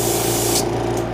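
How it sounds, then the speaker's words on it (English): A short, close hiss of an airbrush test-spraying M003 Pure Red paint by Moto, a steady airy spray lasting about a second. "Test spray."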